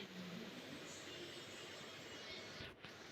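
Train pulling in within the video game GTA 3: a steady, loud rumbling roar of rolling rail cars with a faint high squeal, continuous throughout and briefly dipping near the end.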